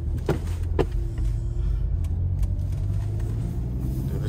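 A car on a test drive at an auto auction, heard from inside the cabin as a steady low engine and road rumble with a couple of faint clicks and no talking.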